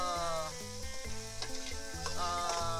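Garlic and onion frying in oil for deer adobo with coconut milk, a dense continuous sizzle with bursts of stirring, close up and without speech.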